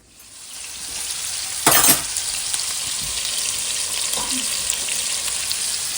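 A pan of egg-based batter frying with a steady close sizzle, broken by a short loud scrape of stirring near the start and a few soft utensil knocks later.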